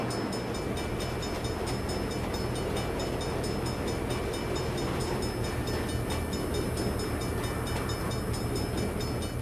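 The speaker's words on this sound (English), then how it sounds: "Bad time for a train." A train passing in the video game Saints Row, a loud continuous rumble and rattle of rail cars that holds steady and close for the whole stretch, with no voices.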